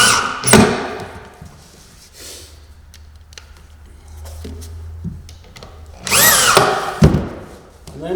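Power drill driving fasteners through a batten bar on a roof curb, heard in a couple of loud short bursts with a faint low hum and handling noise between them.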